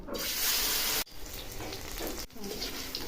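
Gram-flour-coated okra sizzling in hot mustard oil in a kadai, a loud bright hiss at first that settles into a steadier crackling fry with a brief dip partway through.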